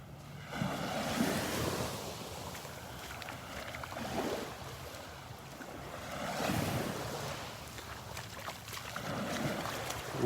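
Ocean surf rolling onto the beach at Delnor-Wiggins on an overcast morning, steady washing waves with swells rising and falling, a little wind, no talking.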